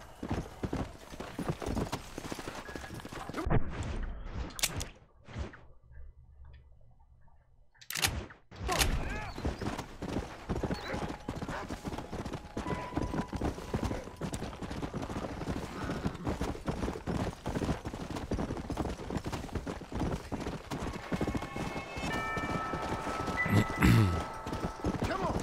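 Horse hooves clip-clop in Red Dead Redemption, a close, rhythmic trot that runs almost throughout, broken briefly by a short quiet gap, with occasional sharp cracks and creaks.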